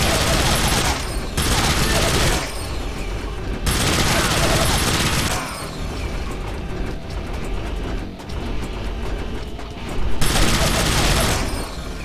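A mounted turret in the video game Infernal rattles out loud machine-gun fire at a refinery, in long sustained bursts separated by short pauses, with a voice talking in between.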